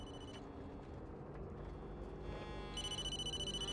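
A telephone ringing in the Blair Witch video game, faint repeating electronic trills that grow clearer and pulse steadily near the end over a low background rumble.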